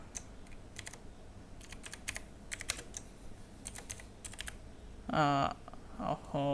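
Quick bursts of typing on a computer keyboard, soft clustered key clicks in short runs, with a couple of louder, more resonant knocks near the end, fairly quiet overall.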